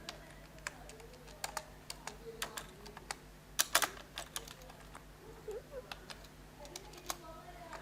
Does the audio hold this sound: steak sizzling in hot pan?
no